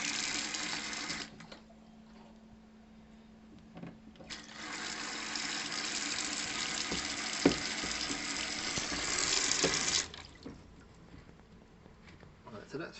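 Water rushes into an underfloor heating system zone with a strong, steady hiss that starts, pauses, then returns for several seconds before stopping, with people talking nearby.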